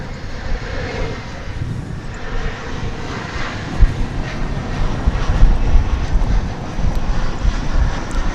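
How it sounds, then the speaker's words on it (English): An Embraer 175 jet airliner arrives at DFW Airport, its engines making a steady broadband roar that swells and rumbles for several seconds at moderate distance, with no voices. "here's that flight from Harlingen arriving. It's in Embraer 175."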